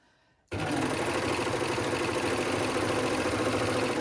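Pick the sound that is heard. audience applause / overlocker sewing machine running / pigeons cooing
overlocker sewing machine running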